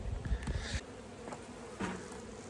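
Bees buzz around an opened forest beehive, a close, faint droning hum with a few louder passes as individual insects fly near, no speech.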